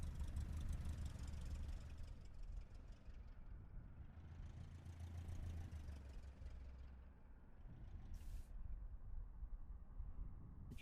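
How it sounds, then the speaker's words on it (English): An engine on a river runs unevenly rather than idling smoothly, a faint continuous rough rumble that swells and eases slightly over several seconds, with no one talking. "sounds like its engine isn't idle"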